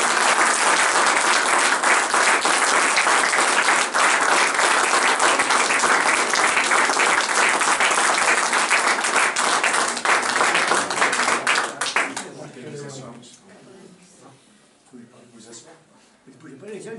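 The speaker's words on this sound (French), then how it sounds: "Merci d'applaudir Léon Boin." An audience claps loudly and steadily for about twelve seconds, a dense crowd ovation at a French award ceremony for academic honours, then the applause fades into quieter room sounds and murmuring.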